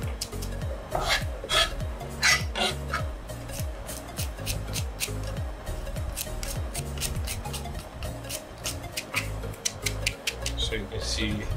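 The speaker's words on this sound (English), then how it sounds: "she's breaking them down into sections and then chopping them." A knife chops okra into chunks on a board for chicken okra soup, giving a quick, regular series of close taps while a person talks over it.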